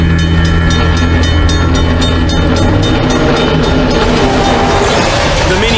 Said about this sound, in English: Then, the sound of a westbound train.